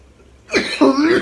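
Two quick rough coughs from a person close by, sharp and throaty, breaking in after a short silence.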